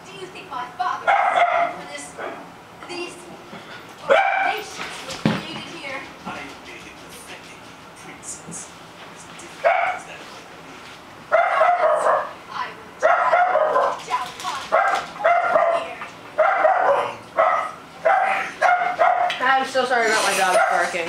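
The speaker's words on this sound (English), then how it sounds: "dog's barking." A dog barks in repeated sharp bursts, some yippy and whimpering, over a Mortal Kombat 9 video game soundtrack with voices and effects running throughout.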